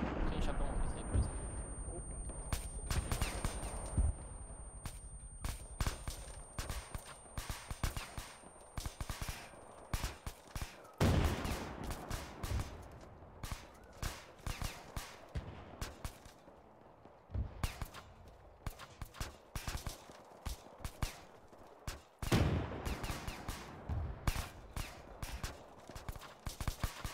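Video-game gunfire and artillery, sharp repeated shots and booms scattered irregularly over a quieter background, with heavier blasts around eleven and twenty-two seconds, while players talk in Spanish between shots.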